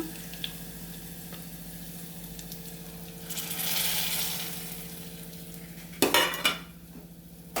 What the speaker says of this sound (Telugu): ఈ రవ్వ ఇంట్లోనే పోసి కలుపుతాను